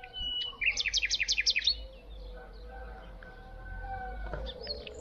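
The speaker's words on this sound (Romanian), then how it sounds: "Dar măcar îmi cântă păsărelele." Small birds sing near a house building site, with one bird giving a rapid run of about eight bright repeated notes and others adding scattered chirps and calls over low background rumble.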